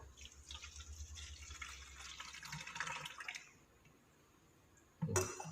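A stream of plant-based betel leaf pesticide liquid trickles and splashes steadily into a plastic hand sprayer for about three seconds, then stops, and a short clunk of the container follows near the end.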